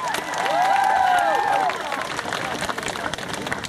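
An audience at a cosplay prize ceremony at a summer convention breaks into applause and cheering, a loud burst that swells, then thins into scattered clapping and crowd noise with a whistle-like tone over the start.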